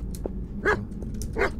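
Dog barks from the horror video game Stay Out The House, two short clear yips spaced about a second apart over a low droning background, with no talking.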